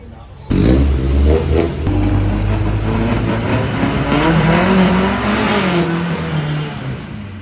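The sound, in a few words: Ford Cortina barn find car driving and skidding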